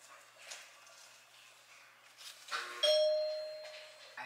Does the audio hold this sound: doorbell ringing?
yes